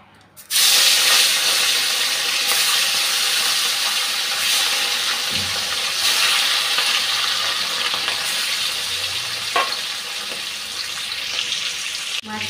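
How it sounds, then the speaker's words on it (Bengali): Katla fish pieces rubbed with salt and turmeric frying in oil, a loud, steady broadband sizzle that starts abruptly and holds without a break, with no voices over it. "এখন ভাজতে দিয়ে দিচ্ছি।"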